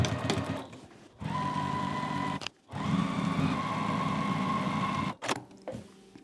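Sewing machine back stitching at the stops and starts on a pillow seam, short bursts of humming motor whir broken by brief pauses as the stitching direction changes.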